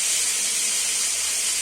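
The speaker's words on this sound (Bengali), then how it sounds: "একটু ভাজা ভাজা হয়ে গেলেই চিড়েটা দিয়ে হালকা করে হালকা হাতে নাড়তে থাকবো" Flattened rice (chira) frying in a pan gives a loud, continuous hiss close by, with no clear breaks or separate stirring strokes.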